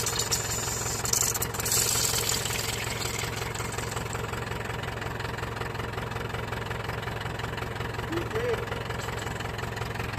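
Case 752 double drum roller diesel engine running steadily, a loud continuous low rumble with constant vibration throughout, with someone talking over it near the start and again near the end.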